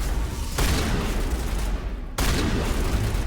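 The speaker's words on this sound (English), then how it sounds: "Okay, shotguns suck in this game, I forgot." Shotgun blasts from the Mass Effect video game, Legendary Edition: two loud, broad booming shots about a second and a half apart, each followed by a sustained rumbling tail, with no talking.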